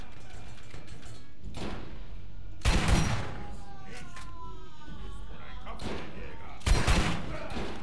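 Gunfire from the Borderlands video game comes in two loud bursts of rapid shots about four seconds apart, with scattered fainter shots and metallic ringing between, under a voice speaking.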